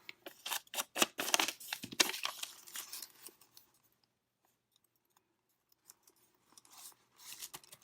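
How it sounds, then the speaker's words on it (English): Paper torn by hand during a craft session with window envelopes: a quick run of ripping and crinkling, then a near-silent pause and a few faint rustles, close to the microphone. "so you do it away from you, tear it away"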